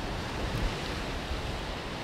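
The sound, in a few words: ocean waves surging around sea rock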